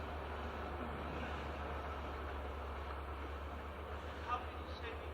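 A train passes outside during a public discussion in Saanen, Switzerland, a steady low rumble and broadband roar that stays fairly constant throughout, distant and faint, with a voice briefly audible near the end.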